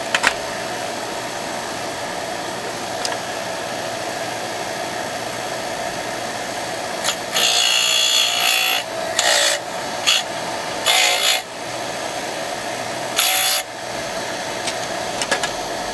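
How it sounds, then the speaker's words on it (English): A bench grinder fitted with a wire brush scours freshly chop-sawed steel, its steady whine broken by several louder bursts of rasping contact as the metal is pressed against the wheel. "So we'll try cleaning it up with the grinder"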